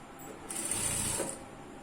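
A sewing machine runs in a short steady burst, stitching the hem at the bottom of an ankle-length pant leg, a close whirring rattle that starts abruptly and stops after about a second, with no talk.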